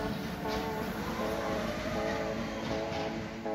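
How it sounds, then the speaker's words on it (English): A freight train pulls out of the Kijfhoek railway yard in the Netherlands onto the Betuweroute toward Germany, a steady, loud rumble with rhythmic wheel and car noise throughout and no talking. "a freight train left the yard to take the Betuweroute towards Germany"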